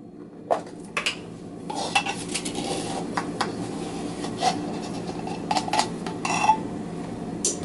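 A tablespoon of baking powder measured out for chocolate chip scones, with scattered clinks and taps of a metal spoon against a container and dishes alongside soft scraping.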